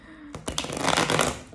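Cards are riffle-shuffled up close, a quick snap followed by a brisk rippling flutter lasting about a second.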